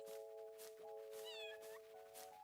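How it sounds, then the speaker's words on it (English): A cat meows once in Farming Simulator 22, a rising-and-falling cry over steady sustained game tones, quiet and without talk. "That's right, kitty cat."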